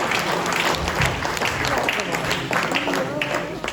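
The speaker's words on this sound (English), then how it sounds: "a big round of applause to those two" An audience applauds a pair of event organisers the night before a methanol speedway race, dense clapping and crowd noise filling the whole stretch at a steady, fairly loud level.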